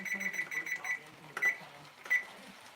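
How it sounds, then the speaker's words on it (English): A kitchen timer is set while cooking cast iron skillet lasagna, giving a few short electronic beeps, including a button-press chirp and then two separate brief high tones, amid quiet kitchen clatter. "So let me set my timer again for 10 more minutes."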